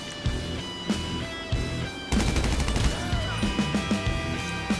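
Gunfire in Grand Theft Auto, sharp shots scattered over a music bed, then a denser rattling burst of rapid fire followed by more spaced cracks, fairly loud and without talk.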